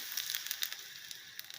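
Mustard seeds, urad dal and finely chopped ginger splutter in hot oil in a small tempering ladle, giving a faint, continuous crackle with scattered sharp pops.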